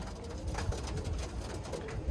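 Birmingham Roller pigeons coo close by in a loft, with soft, low, repeated throaty calls overlapping steadily amid faint rustling.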